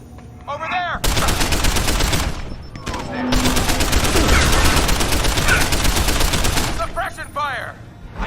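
Dense bursts of automatic gunfire from a firefight in the game Deus Ex: Human Revolution, loud and sustained for several seconds with brief gaps, with shouted voices before and after the shooting.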